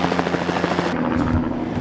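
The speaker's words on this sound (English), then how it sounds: "Oh, we got a rescue chopper coming inbound." Rescue helicopter flying overhead during a snowstorm rescue, its steady rotor thump and whine loud and continuous with no talking.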